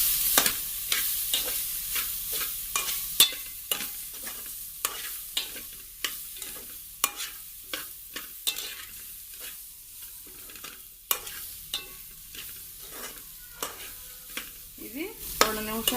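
Broccoli pieces with turmeric fry and sizzle in a pan while a spoon stirs them in steady, repeated scrapes and taps over a constant close crackle, with no talking.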